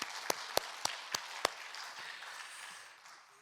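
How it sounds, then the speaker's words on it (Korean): An audience at a Korean prayer retreat gives faint, scattered applause, with a handful of sharp, distinct claps standing out near the start before the clapping thins and fades away. "다시 한번 박수하세요. 다시 한번."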